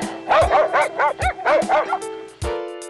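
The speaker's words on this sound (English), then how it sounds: "Dog." A small dog yips and barks in a quick burst of high, whiny calls, then gives one last short bark after a brief pause.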